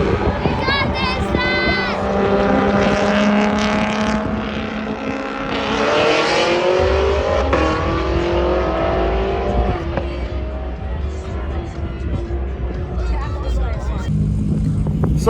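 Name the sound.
race car accelerating during roll racing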